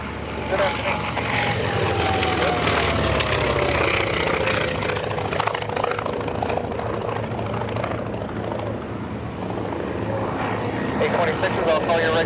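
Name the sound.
propeller aircraft at an airshow, likely a Twin Beech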